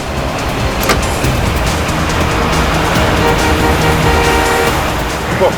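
Heavy road traffic roars loud and unbroken on a busy street, with car horns tooting now and then through the dense hum of engines.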